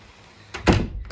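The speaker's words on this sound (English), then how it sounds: "Let me shut it from the inside." An interior door is pushed shut from the inside during a home renovation, giving a single muffled thunk with a short rattle, close by and fairly loud after near silence.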